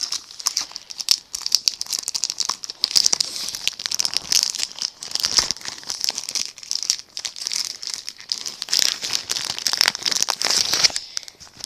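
Plastic packaging of a Naruto Shippuden item crinkles and crackles continuously as it is handled and pulled apart, with bursts of sharper tearing, close up and fairly loud.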